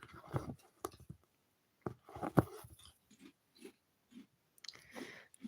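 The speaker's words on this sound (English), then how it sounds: "What are you munch crunching on" Someone munching and crunching on food close to the microphone, in scattered soft bursts of chewing and crisp crunches separated by quiet gaps.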